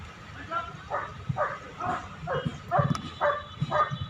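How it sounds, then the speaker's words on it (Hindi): A police dog at a Dog Show demonstration barks repeatedly at a suspect during a crime-detection drill, a steady series of loud, near barks roughly every half second, with someone speaking over them. "देखिए डॉग उसको भौंक के बोल रहा है कि कहीं जाने नहीं देगा उसको"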